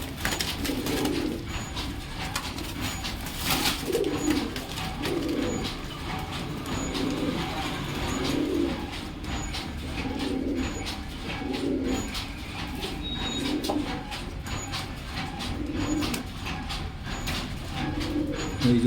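Pigeons cooing repeatedly in a loft or dealer's coop, soft rhythmic coos recurring every second or two over steady background noise, with no speech.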